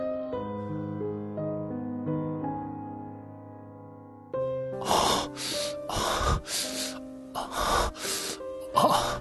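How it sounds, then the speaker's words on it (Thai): Heavy panting breaths as a sound effect in a Thai horror audio drama: soft tonal music at first, then a run of loud, rough gasping breaths repeating over the music for the second half. "เสียงหอบหายใจที่เต็มไปด้วยความกระสันในกามของผมดังขึ้นอีกครั้ง"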